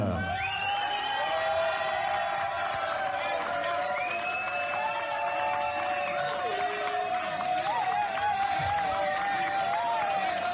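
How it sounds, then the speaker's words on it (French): An audience applauds and cheers to welcome the host of a live music talk show, with steady clapping, whoops and whistles lasting throughout. "Préparez-vous à applaudir, on tend ses mains, on se les rapproche, on claque."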